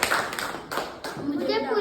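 Children and adults clap together in a Gondia district council school classroom, a short burst of steady group applause heard up close, overlapped by children's voices.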